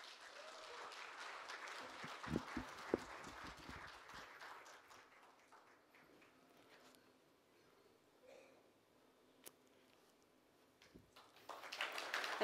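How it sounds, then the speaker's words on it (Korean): At the 2015 Jeju Forum, a hall audience claps to welcome an interview writer to the stage, distant, faint applause with scattered sharp claps early that thins and trails off before rising slightly again at the end. "큰 박수로 맞이해 주시기 바랍니다"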